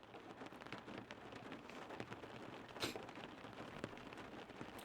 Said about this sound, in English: So I've got this recording of rain on a car window.